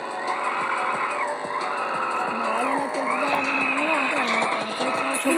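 Tires skid and squeal as a car drifts in a mobile racing game on a tablet, a loud, continuous screech with wavering pitch over steady engine and game sound.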